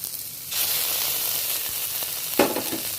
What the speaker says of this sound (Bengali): এবার খুব ভালো করে কষিয়ে নিতে হবে আদা রসুনের পেস্টটা